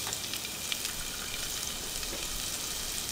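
Chopped onions frying in oil in a pot, a constant close hiss and crackle with no pauses and no talk.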